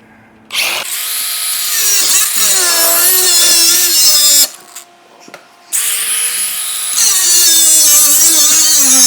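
Power saw biting into cast aluminum in a loud, sustained grinding whine, cutting out briefly partway through and then resuming at full intensity.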